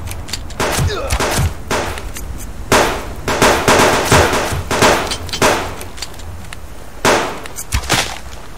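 Pistol shots in the Subsistence video game crack out in sharp single reports and short clusters at irregular intervals, loud and close, with metallic ringing between them.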